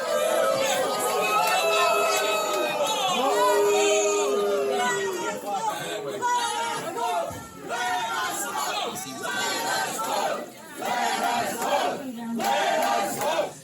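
A crowd of protesters demanding a plebiscite boos, shouts and chants at an Antigonish town and county council meeting, a dense, loud, continuous din of many voices rising and falling throughout.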